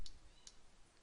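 Two light, crisp computer mouse clicks tick close by against a quiet background.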